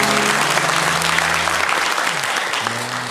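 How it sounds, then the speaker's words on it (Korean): A church congregation at a Sunday morning service applauds with dense, sustained clapping for about three seconds, fading slightly toward the end. A faint sustained tone sounds underneath. "박수로 우리 한번 안녕하겠습니다"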